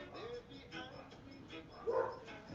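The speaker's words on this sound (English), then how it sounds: "I hope these dogs won't make too much noise." Dogs barking indoors during a midday movement exercise session, a few short muffled barks with a louder bark near the end, under faint background noise.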